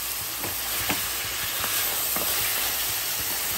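Steady hiss of dhaba-style mutton sizzling as it is fried bhuna-style in a pan, continuous and close with a few soft clinks of stirring, no talking.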